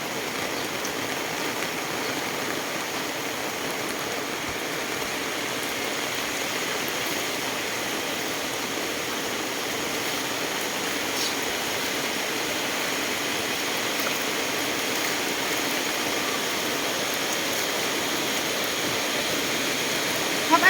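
Heavy rain pours steadily onto rice fields around a rural home, a dense, even hiss that holds at the same strength for the whole stretch with no voices over it.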